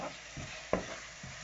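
Kibbeh mixture with three crushed garlic cloves being stirred in a pan, a few soft scraping strokes with light sizzling underneath, close and fairly quiet.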